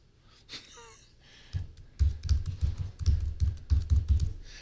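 Keys clicking on a Chromebook Pixel keyboard as a password is typed: a quick run of a dozen or so close, crisp keystrokes after a brief faint sound.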